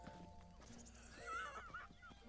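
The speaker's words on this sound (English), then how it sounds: "Courage got scared by another horse" A horse in The Legend of Zelda: Breath of the Wild gives a quavering neigh, preceded by soft hoof clip-clops, quiet and somewhat distant within the game's ambient sound.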